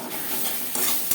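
Ginger and green chili paste being stirred with spices in a hot pan, a brief close scraping and sizzling with a sharp clack of the utensil near the end.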